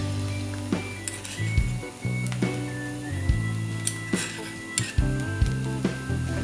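Spoon stirring poha pulao with raisins and saffron in a pan, giving repeated clinks and scrapes against the metal over a steady low hum, close and moderately loud.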